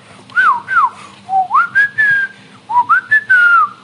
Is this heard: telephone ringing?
no